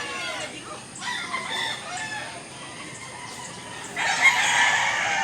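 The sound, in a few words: chickens, roosters crowing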